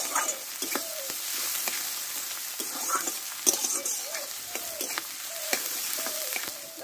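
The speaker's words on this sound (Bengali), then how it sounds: "দিয়ে পেঁয়াজটা একটু আমি হালকা করে একটু ভেজে নেব" Two large chopped onions lightly frying in hot oil for aloo dum, with a steady close sizzle and repeated stirring scrapes against the pan.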